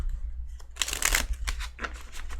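Tarot cards riffled and shuffled in a few quick, crisp bursts, close up, with a soft flutter between them.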